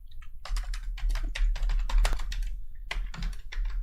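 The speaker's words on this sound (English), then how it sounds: "that typing is so aggressive, man" Someone types hard and fast on a computer keyboard, producing dense, loud clattering keystrokes with a few brief pauses and no voices.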